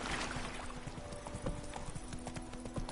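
Horse hooves clip-clopping at a brisk trotting rhythm in The Witcher 3: Wild Hunt video game, close and fairly quiet, continuing throughout.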